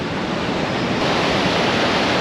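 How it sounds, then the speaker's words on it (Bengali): Ocean surf breaks at Puri Golden Beach, a continuous loud broadband wash of water and wind roar, close and without pause. "এই দেখুন এই ঢেউটা আছে"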